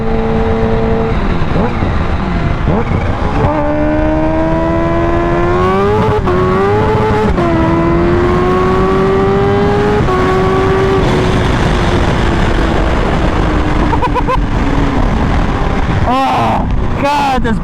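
Kawasaki Ninja H2 motorcycle revving up close, the engine note climbing and falling through several throttle blips before settling, with sharp loud bursts near the end.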